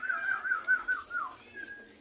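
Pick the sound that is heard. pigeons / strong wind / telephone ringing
pigeons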